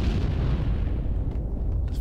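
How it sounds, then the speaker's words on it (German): An explosion in the video game Max Payne 2, a loud, deep rumbling boom that rolls on and fades across the moment. "Das war eine Explosion."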